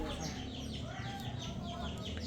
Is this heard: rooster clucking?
yes